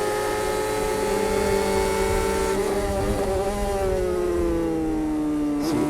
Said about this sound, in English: These two cars you see on the screen now are F1000 cars, which are powered by 1000cc Hayabusa motorcycle engines